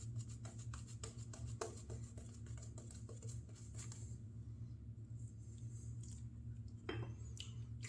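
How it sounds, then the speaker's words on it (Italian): A shaving brush works Chiseled Face "Cryogen" shaving soap into a lather with quiet, rhythmic squishy strokes over a low hum. The strokes pause midway, then resume briefly. "Il sapone sta montando benissimo."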